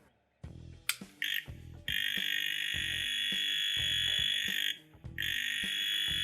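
A Globe JQ-9948A voltage tester gives a loud, shrill, steady electronic beep that holds for seconds and briefly cuts out, over a soft, rhythmic low thumping.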